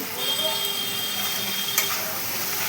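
Spice paste with turmeric and salt frying in a pan, giving a steady, moderately loud sizzle with soft stirring scrapes and one brief clink near the end, heard alone without talk.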